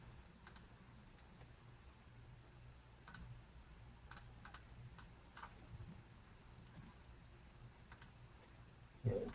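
Soft, irregular keyboard typing, quiet and close, with scattered light clicks over a low steady hum and a brief louder knock at the end.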